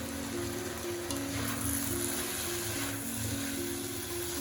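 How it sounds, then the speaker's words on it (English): Fish curry powder and turmeric frying in a pan for a prawn curry, giving a steady, close sizzle throughout with a faint low hum underneath. "now I'm adding in fish curry powder 2 tablespoons, and turmeric powder I'm adding in 1 teaspoon."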